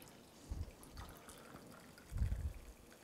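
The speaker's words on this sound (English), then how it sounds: "now we pour this nice coffee in here" Freshly brewed coffee pours from a glass Chemex carafe in two short bursts, making a quiet, close liquid trickle and splash with no talking.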